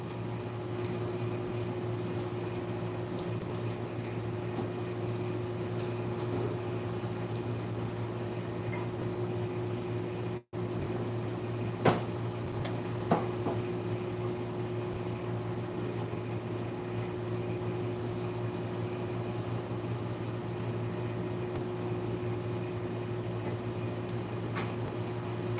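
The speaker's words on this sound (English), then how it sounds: "Got the microwave going." A steady low electrical hum runs unbroken throughout, with a couple of faint clicks partway through, like a microwave oven running.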